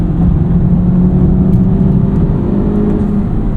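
A 2023 Honda Civic Type R on Bridgestone Potenza RE-71RS tires rounds a corner, its engine a loud, steady droning whir heard from inside the cabin, holding an even note with no voices.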